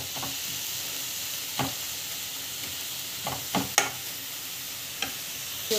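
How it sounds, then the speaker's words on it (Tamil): Ingredients sautéed in a pan for a protein-rich breakfast, giving a steady soft hiss and sizzle broken by sparse, sharp spatula scrapes and clicks, fairly close, with no talk. "நல்லா வந்து வதக்கிக்கோங்க"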